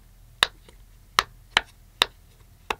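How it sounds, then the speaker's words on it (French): Bubbles of a silicone Pop-It fidget toy are pressed one at a time, giving five sharp, close clicky pops at an uneven pace over quiet background. "Déjà le bruit il est incroyable, mais la sensation, le pop il est magnifique."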